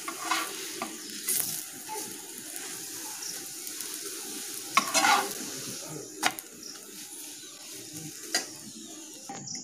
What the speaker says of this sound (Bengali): প্রথমে অল্প অল্প তেল দিয়ে ভাজবো